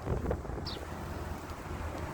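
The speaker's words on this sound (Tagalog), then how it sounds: "grabe ang lakas ng hangin" Strong desert wind in the UAE, turning into a sandstorm, buffets the microphone, a steady low roar and rumble with gusty surges throughout.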